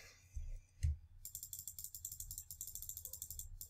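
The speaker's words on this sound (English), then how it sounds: "I'm clicking my mouse like crazy." Rapid computer mouse clicking during a game of Minecraft, a dense run of quick, crisp, close clicks in an irregular fast rhythm, heard alone after a brief bump.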